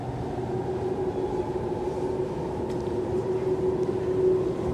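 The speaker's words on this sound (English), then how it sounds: "the Chatswood service now arriving on 1 is the train I'll be catching" A Sydney Metro train pulls into the platform at Castle Hill with a steady, loud rumble and a faint rising whine, heard alone with no talking.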